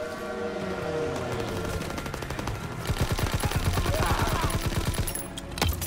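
Rapid automatic gunfire from a weapon in Call of Duty WWII, a dense stream of close, loud shots that builds into a sustained burst, with game ambience and faint talk underneath.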